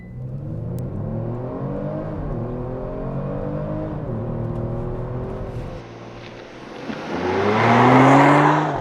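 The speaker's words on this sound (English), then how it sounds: "2022 Kia Stinger. GT Elite with Suede Package with launch control." A 2022 Kia Stinger GT Elite with 368 horsepower launches under launch control: a loud, close engine roar climbs through the gears, dips briefly, then surges again into a strong rising rev.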